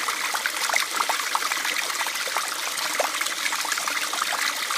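Filtered stream water trickles steadily out of a hiking water filter in the Australian bush, a close, continuous dribble and splash with no talking.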